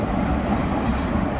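The Madurai-Coimbatore Intercity Express, hauled by a WAP-4 electric locomotive, departs Koodal Nagar station with a steady, close rumble of wheels and railcars and a faint high squeal.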